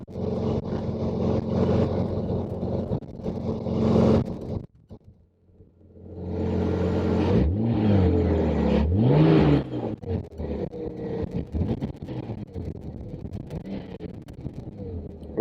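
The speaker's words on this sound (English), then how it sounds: "Revs really cleanly, very responsive." A 2004 MG ZT 2.5 V6 engine idles steadily, drops away briefly, then is blipped through several rising and falling revs before settling back to a smooth idle, heard close and alone.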